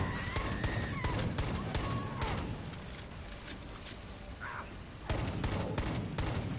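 Rapid bursts of gunfire from the video game Far Cry New Dawn, dense volleys and single shots crackling loud throughout, with a brief lull near the middle before heavy firing resumes.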